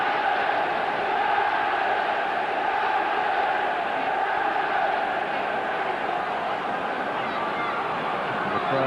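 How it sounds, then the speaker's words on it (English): Football crowd at a 1997-98 Division One match between Sheffield United and Middlesbrough, a dense, steady roar of many voices chanting and murmuring at a distance, continuous and even, with commentary talk over it. "Crowd here warmed up to try and provide the inspiration for the breakthrough in this game"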